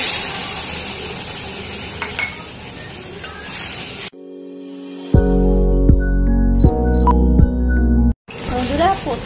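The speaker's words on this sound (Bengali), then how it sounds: "আমি একটুখানি তেল দিয়ে দিচ্ছি। আমি কালো জিরে দিলাম," Nigella seeds dropped into a little hot oil for tempering give a bright, hissing sizzle that is interrupted midway by a burst of music before the frying hiss returns.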